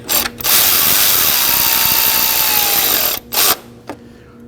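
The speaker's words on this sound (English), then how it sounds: "Now we're gonna go ahead and get those four bolts snug up." A ratchet snugs intake manifold bolts on a 2011-2016 Kia Optima: a loud, close, buzzing ratchet run lasts about two and a half seconds, then short bursts and a brief click follow, with no talking.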